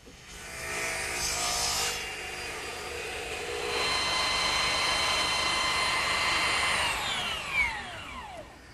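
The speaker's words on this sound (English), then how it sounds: "Now it's just a matter of taking a rasp and fine-tuning each piece until" A hand rasp files a turned wooden chair piece for a ladderback chair to fit a mortise, giving steady, close, coarse scraping strokes that rise and fall in long passes.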